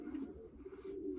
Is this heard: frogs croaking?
no